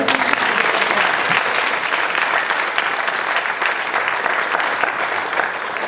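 Sustained audience applause after a student speaker's talk at a school speaker event, dense and steady throughout with no break, a full room clapping at close range.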